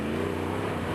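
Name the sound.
Jeep Wrangler Rubicon 392 V8 engine through quad tip exhaust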